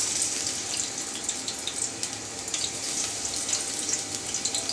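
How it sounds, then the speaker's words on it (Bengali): Grated onion frying in a pan with no ginger or garlic, a steady broadband sizzle holding evenly throughout with small crackling pops, close and moderately loud, no talking. "পেঁয়াজটাকে আমি একদম নরম ভাজা করে নিচ্ছি"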